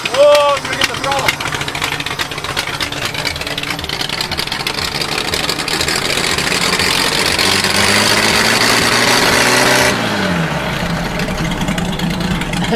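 A Ford Flathead engine on a water well drill rig runs loud and steady at high throttle, its drone rising and then dropping away abruptly near the end, with voices talking over it.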